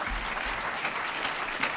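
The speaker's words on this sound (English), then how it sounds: "Come on, y'all applaud." Audience applause at a medical talk, a steady dense patter of clapping filling the room throughout, moderately loud with no break.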